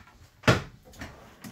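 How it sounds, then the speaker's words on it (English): Plywood kitchen drawer on ball-bearing slides in a 2023 Venture SportTrek 291VTQ travel trailer sliding open, one short sharp rolling burst followed by quieter rattles, close and alone. "There are some drawers,"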